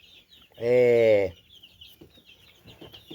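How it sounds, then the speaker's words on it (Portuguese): A hen among a batch of chickens gives one loud, drawn-out squawk, and a few faint clucks and rustles follow in the background. "Vamos pegar a galinha."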